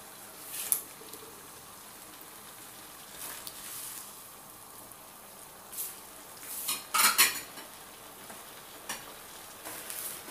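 A utensil scrapes and clinks against a pan while messiam with prawns and eggs is stirred into gravy over a soft sizzle, with a few brief, close metallic scrapes separated by quieter frying.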